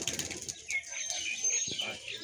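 Pigeons nearby, faintly heard: soft wing flaps and light cooing notes scattered over a thin, quiet background, with no clear speech.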